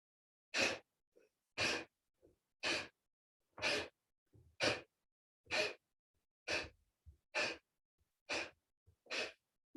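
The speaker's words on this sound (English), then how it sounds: "Inhale, forced exhalation." Ten sharp, forceful breaths pushed out through the nose during a yoga breathing exercise, evenly spaced about one per second, each a loud hissing burst, with faint quick inhales between them and no talking.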